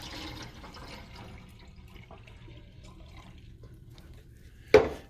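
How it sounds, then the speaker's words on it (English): Water drips and trickles from a Bunn commercial coffee maker, VPR series, as it starts brewing a pot, a faint steady patter ending in a brief louder clunk. "so now we're going to brew a pot of coffee with that filter pack"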